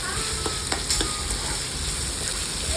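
Two medium onions, finely chopped, frying in hot oil for an egg curry, a dense, loud, continuous sizzle with occasional crackles and spoon taps, close and without voices.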